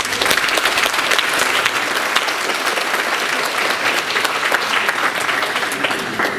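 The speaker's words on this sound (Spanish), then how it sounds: "Lo despedimos con un fuerte aplauso" A seminar audience gives a departing speaker loud, sustained applause, dense and even from start to finish with a few scattered voices mixed in.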